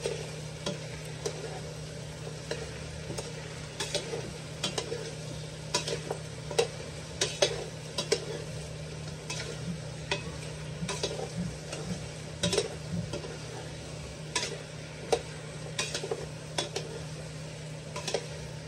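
Chicken feet being stirred in a pan, with regular scraping ticks and soft clatters of the utensil against the pan over a steady low background hum, fairly quiet and without talk.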